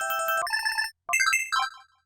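Bright electronic PDA alert tone from the video game Pokémon Colosseum: a rapid trilling chime burst, a brief pause, then two more warbling melodic phrases, close and loud with no talking.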